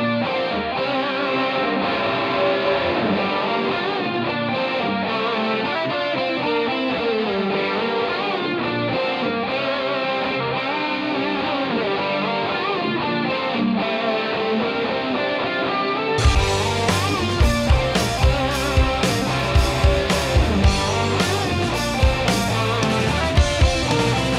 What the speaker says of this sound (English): so that way we can only hear the sound of our plate